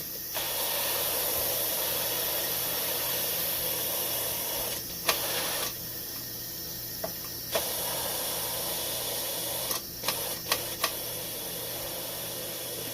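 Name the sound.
Instant Pot pressure cooker quick-releasing steam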